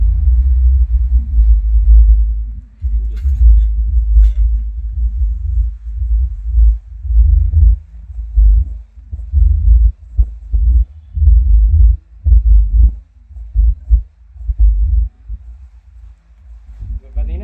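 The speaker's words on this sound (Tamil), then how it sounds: "நெக்ஸ்ட் வந்து சப்பு மட்டும் ப்ளே பண்ணுறேன்." A 12-inch subwoofer driven by a dual 5-channel amp kit plays only deep bass, loud pulsing low thumps in an irregular musical rhythm, alone without talk.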